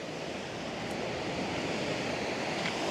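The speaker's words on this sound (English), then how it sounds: "On the southern side of Playa Camarones, the waves do tend to come up a little bit higher." Ocean surf at Playa Camarones in Puerto Vallarta during rough post-hurricane conditions, a steady close wash of breaking waves and wind noise with no pauses and no voices.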